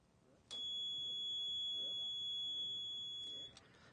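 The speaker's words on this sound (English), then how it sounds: "you can see and hear the alarm, which tells you for sure that the tip-up has released" A shrill, steady electronic buzz from an ice-fishing tip-up bite alarm sounds for about three seconds, starting and stopping abruptly over faint outdoor background noise.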